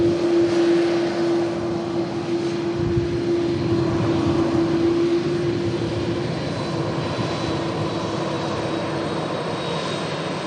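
An Etihad Boeing 777 airliner lining up on an airport runway, its jet engines giving a steady, fairly distant roar and whine that holds without a break throughout, with no talking.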